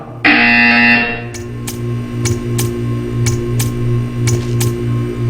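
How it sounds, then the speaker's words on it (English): A loud electronic buzzer in Portal 2 sounds for about a second, followed by a series of evenly spaced ticks over a steady hum. "You will hear a buzzer."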